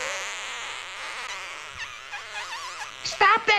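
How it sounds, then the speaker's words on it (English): Several cartoon flies buzz in a high, wavering whine that rises and falls for a few seconds, then gives way to sharper, louder squeaky cries near the end. "But the flies kept on buzzing until the little tailor could stand it no more"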